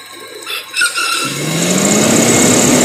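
A car engine idling with the aircon switched on, its pitch climbing as the revs rise, with a whining squeal that builds steadily and rings loud and close.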